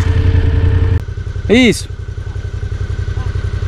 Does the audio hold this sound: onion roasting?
no